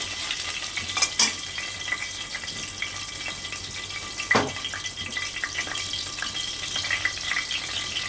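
Spices tempering in a small amount of hot oil for Bengali doi potol, with a continuous close sizzle broken by a few sharp metallic clinks and stirring scrapes.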